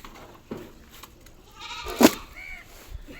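A goat on a farm bleats once, loud and close, during its afternoon feeding, over faint background noise and a few soft rustles.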